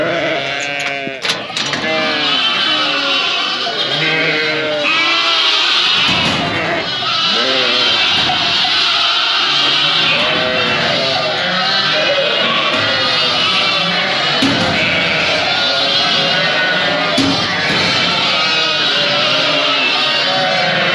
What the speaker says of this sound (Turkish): kuzulu koyunlar bakın nasıl ayrılıyorlar